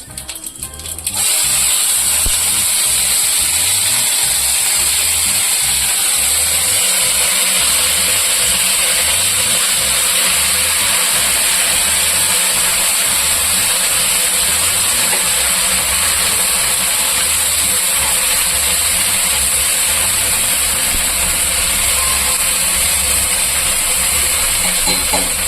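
Cumin seeds, dried red chillies and masala sizzle and crackle steadily in hot oil while palak keerai is cooked, a loud, continuous frying hiss running unbroken for the whole stretch.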